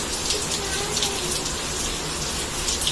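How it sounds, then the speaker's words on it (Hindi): Heavy rain pours down at night in a steady, dense hiss with scattered drops pattering close by, continuous and unbroken throughout, with no voices. "रात के 11 बजे बारिश हो रही है, और झमाझम जोरदार बारिश हो रही है"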